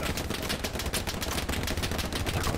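Rapid gunfire in a Hell Let Loose battle, a dense barrage of sharp reports at close range that keeps going without a break. The shots come too fast to mark out single shotgun blasts.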